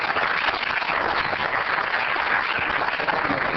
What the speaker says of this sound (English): One last time, hand applause for national champions.